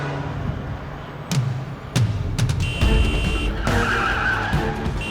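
A car skids to a stop in a Hindi-dubbed action film scene, loud tire squeal and sliding noise with sharp impacts and a sustained high-pitched tone, no voices.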